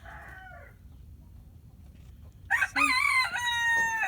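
Chickens are penned indoors away from melting snow and mud; soft clucking gives way to a loud, close rooster crow near the end, after a single brief spoken word.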